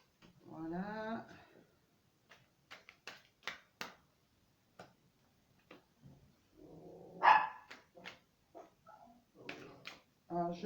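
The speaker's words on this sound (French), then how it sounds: "j'ai toujours mes chiens derrière et qui aboient parce qu'il y a du monde dans les escaliers" Several dogs bark intermittently from behind a speaker indoors, reacting to people on a staircase; short, moderately loud yaps and barks, with someone talking over and between them.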